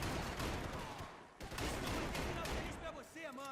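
Dense bursts of gunfire from the video game Max Payne 3 fill the clip, sounding as rapid, overlapping shots and explosions close up. A muffled voice can be heard underneath.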